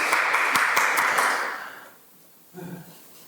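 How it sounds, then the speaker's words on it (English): Audience at a church celebration of life applauding themselves, a short burst of loud clapping that fades out within two seconds, followed by a brief murmur. "Give yourselves a round of applause."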